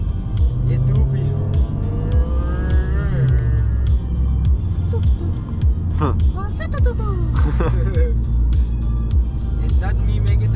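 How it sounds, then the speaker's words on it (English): Steady engine drone of a car during a drive, low rumbling motor sound with rising and falling pitch as it accelerates, heard from inside the cabin with people talking over it. "It's not me making the sound, it's the motor."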